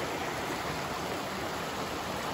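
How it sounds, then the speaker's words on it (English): A small waterfall pours into a rocky pool along a stream, a steady, even rush of white water close by, unbroken and without any voices. "Another neat little waterfall and pool beneath it with some rocky outcrops above."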